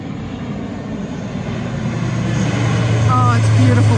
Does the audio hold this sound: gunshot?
no